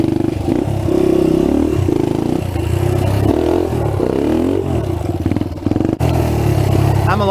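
A trail dirt bike engine runs close by, loud and buzzing, with its pitch rising and falling through repeated revs and a sudden brief cut near the end.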